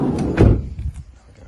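A van's driver's-side sliding door is worked by hand, giving a heavy, close thud followed by a shorter rolling clunk as it moves along its runner, with no talking.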